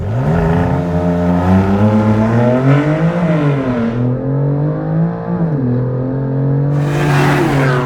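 A BMW M2 CS fitted with an Akrapovic exhaust launches hard on launch control, its engine climbing through the revs loudly and close, with a brief gearshift dip before the rise resumes.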